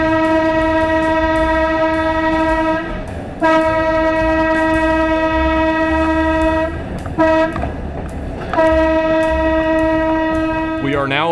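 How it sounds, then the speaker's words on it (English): Philadelphia Suburban Transportation Company trolley number 14, restored at the Pennsylvania Trolley Museum, rolls along the line toward a county fair, with a loud sustained horn blasting in long tones over steady rumbling wheels and brief gaps. "We are now aboard Philadelphia Suburban Transportation Company number 14 as we continue west along the railroad"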